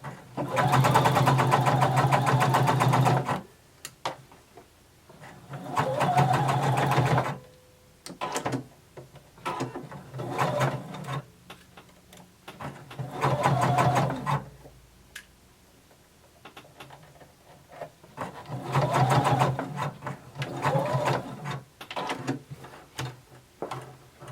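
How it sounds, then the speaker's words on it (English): Sewing machine running a long basting stitch, heard in several separate loud bursts of steady mechanical whirring with quiet gaps and small clicks between runs. "Now change to your basting stitch and sew till we get to the top."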